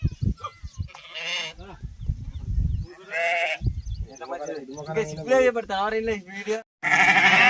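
Sheep bleat repeatedly in a muddy pen after rain, several loud, wavering calls close by, mixed with someone talking in between.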